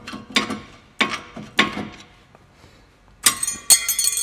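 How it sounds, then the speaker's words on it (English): Flathead screwdriver prying worn front brake pads out of a caliper, giving a series of sharp metallic clacks and scrapes in uneven bursts, close up, ending in a brighter clatter as the pads come loose. "you may need to use a flathead screwdriver to pry these out"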